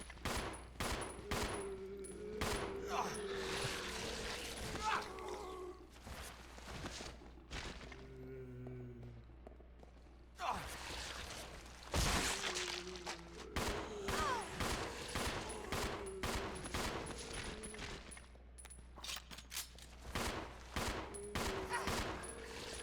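Rapid bursts of gunfire from Resident Evil 0 HD, clustered volleys with a short lull midway, fairly quiet overall with little talk.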